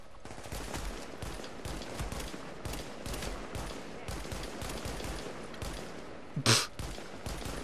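Dense, continuous automatic gunfire from The Division fills the whole stretch in rapid bursts, with one sharper, louder crack standing out near the end; no voices are heard.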